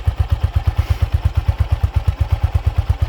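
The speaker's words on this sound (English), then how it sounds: "Just hear that single piston thumping away." A single-cylinder Honda FT500 Ascot motorcycle engine thumps close by in a steady, even beat of about six pulses per second, loud and unaccompanied by talk.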